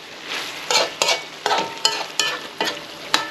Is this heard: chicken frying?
yes